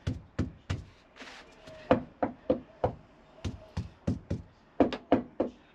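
Knuckles rap repeatedly on an insulated floor in a VW T5 van, a string of sharp, close hollow knocks in an uneven rhythm, about fifteen in all.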